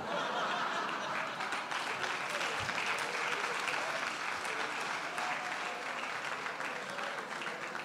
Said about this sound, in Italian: Facciamo un applauso per Gesù